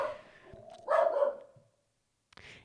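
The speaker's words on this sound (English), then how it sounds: "we got a little dog barking on the podcast" A small pet dog named Jones barks and yaps indoors in bursts, loudest in a sharp cluster near the middle, then falls quiet before a short final yip.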